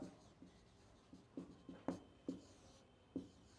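A pen writing out a class 12 maths problem on paper gives a quiet, close series of short scratchy strokes and taps, spaced irregularly over a faint background hiss.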